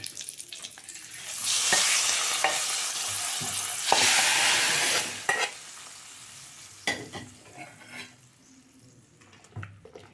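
Tempering for South Indian buttermilk curry (mor kuzhambu) sizzles and crackles loudly in a pan in two strong bursts, with clinks and stirring between them; no talking.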